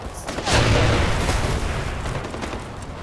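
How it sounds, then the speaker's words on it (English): Grenade explosions in Far Cry 4, a loud booming blast that swells after a brief lead-in and then rumbles and fades slowly across the rest of the moment. "these guys are throwing grenades at me"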